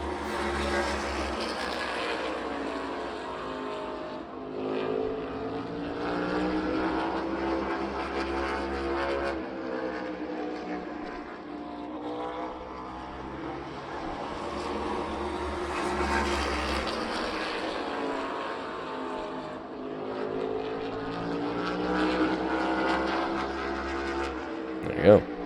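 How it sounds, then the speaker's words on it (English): NASCAR stock cars roar around the Bristol short track as a continuous loud, droning engine wash that rises and falls in waves as the pack passes, with crowd and voices faintly mixed underneath. "It's insane even how loud like one of these cars are,"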